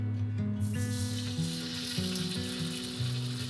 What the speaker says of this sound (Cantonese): 咁而家啦，我就開始煎個豆腐噶啦